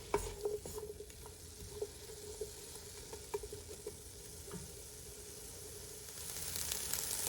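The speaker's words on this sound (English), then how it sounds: "just want to kind of stir it around a little bit" Turkey pumpkin chili with onions cooks in a pot, a soft steady sizzle with light scraping and patter of a spoon stirring it around, fairly quiet and close, with no talking.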